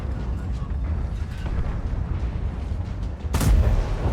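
A tank cannon shot in World of Tanks, fired at an E-15 around an IS-7 battle: a single loud boom bursting out near the end over a steady low rumble of engine and battle noise, with a voice talking throughout.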